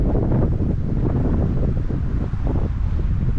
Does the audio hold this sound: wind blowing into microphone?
yes